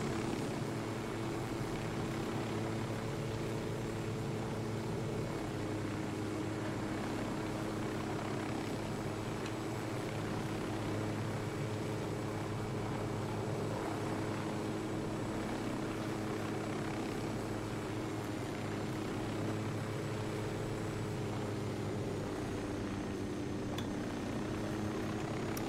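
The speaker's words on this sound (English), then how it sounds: "This chopper is not gonna last very long, but long enough to get us to this chopper." Helicopter in Ghost Recon Wildlands flying in-game, a steady droning rotor and engine roar that fills the whole stretch with constant loudness and no talk.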